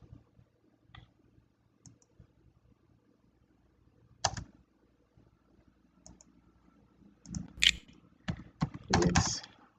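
Sparse clicks and key presses on a computer keyboard while entering an AutoCAD command, isolated taps spaced out with a quicker cluster of keystrokes near the end, close and fairly quiet in a still room.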